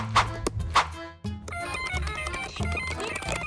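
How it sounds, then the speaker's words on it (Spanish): A telephone ringtone plays up close, starting with two bright rings and then moving into a busy electronic melody with a steady beat. It stands alone, with no talking over it. "Ese sonido te lo tiene en un teléfono."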